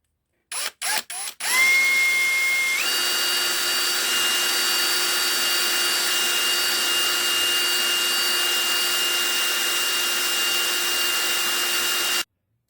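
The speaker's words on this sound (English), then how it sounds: "we'll give it a bit of a hone out with the battery drill." A cordless battery drill honing the bore of a Ducati 749/999 clutch slave cylinder: a few short bursts, then a loud steady whine that shifts pitch and runs continuously for about ten seconds before cutting off abruptly.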